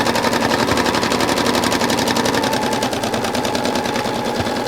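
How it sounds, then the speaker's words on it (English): A sewing machine runs steadily, its needle punching through thick quilting fabric in a rapid, even popping rhythm that stays loud and close without pause; no one speaks. "I can hear just a little popping sound as the needle goes through the fabric"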